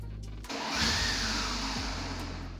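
A 1948 Porsche 356 Speedster replica engine cranking briefly and catching, then settling into a loud, steady idle close by, with no voices.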